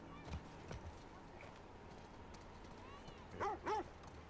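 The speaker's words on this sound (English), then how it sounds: "It's the dog from the hydro plant from the first one." Dog barking in the video game The Last of Us Part 2, a few short, soft barks over a quiet game background, with faint talk nearby.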